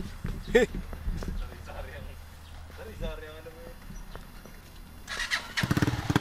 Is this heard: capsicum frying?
no